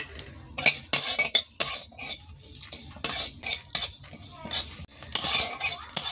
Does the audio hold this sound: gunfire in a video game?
no